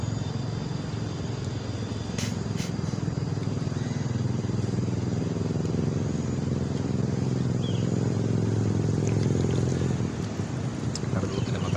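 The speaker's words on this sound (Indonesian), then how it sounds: "ada motor lewat" A motorcycle passes outside an old house with wooden floors. A low, steady engine drone rises slightly and then fades across the length of the clip, heard faintly under room noise with a couple of brief clicks.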